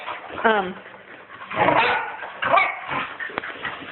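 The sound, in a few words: dogs playing roughly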